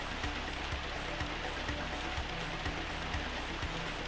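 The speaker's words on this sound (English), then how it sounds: "It's raining right now." Steady rain falls in the video game Grandia, an even hiss of drops with faint periodic ticks running through it, continuous and moderately loud with no voices.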